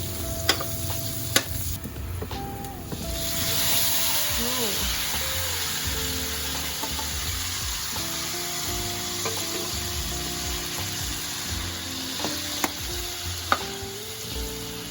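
Meat, about 2 kilos, sizzling steadily in a hot pan while being stirred, a continuous frying hiss with occasional scrapes under nearby conversation.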